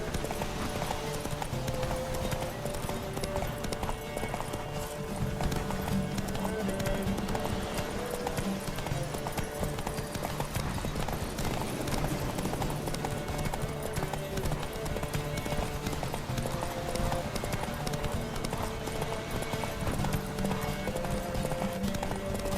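Horse hooves clip-clop in a steady, continuous galloping rhythm in The Witcher 3, with game music and ambience playing underneath throughout.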